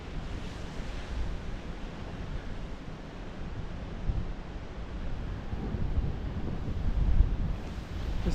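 Strong Force 8 wind on the Malta coast at Migra l Ferha, a steady roaring rush buffeting the microphone with loud gusts, surf booming underneath and no voices.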